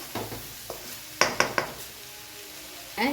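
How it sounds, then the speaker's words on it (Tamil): Long beans and grated coconut fry in a pan for a poriyal, a low sizzle broken by a few quick clinks and scrapes of stirring, close and fairly quiet. "நல்லா டீப்பாக ஃப்ரை ஆகட்டும் தேங்காவும் நல்லா வறுபடணும்"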